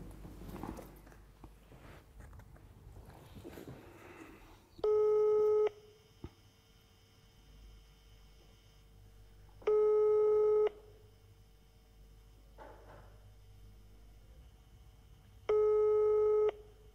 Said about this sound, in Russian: Мы звоним Гарику Харламову.